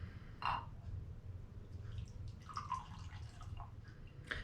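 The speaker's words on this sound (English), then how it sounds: "I'm going to pour myself a little drink." A drink pours into a gifted glass with a few light drips and trickles spread over several seconds, quiet against a low steady hum.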